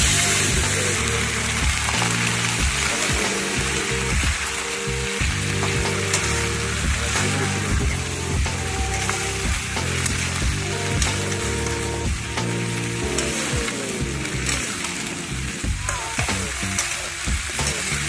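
Cumin seeds and bay leaves sizzle loudly in hot oil, a steady dense frying crackle that runs unbroken throughout with no talk.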